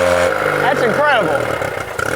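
A fake Yamaha outboard motor bought from Alibaba revs up and falls back in a rising and falling whine, heard close under steady background noise.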